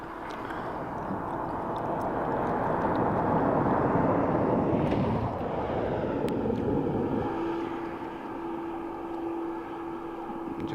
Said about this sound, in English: And then we have another A330 in from Malaga.